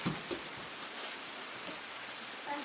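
Steady rain during a thunderstorm pattering on nearby surfaces as a soft, even hiss with a few closer drips, fairly quiet and with no speech.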